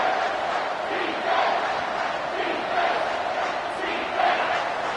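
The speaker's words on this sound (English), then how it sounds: "Decibels rising as the crowd gets behind this defense on third down." Stadium crowd noise from an NCAA football video game: a dense, continuous roar of many voices that swells and surges in waves, loud and steady throughout with no clear commentary on top.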